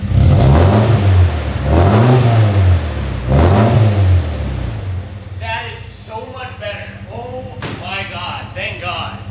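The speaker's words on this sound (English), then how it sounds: "I'm gonna let it warm up, then I'll rev it a bit." A Nissan KA engine with a straight pipe revs hard three times with loud, raspy rises and falls, then settles into a rough idle while people talk nearby.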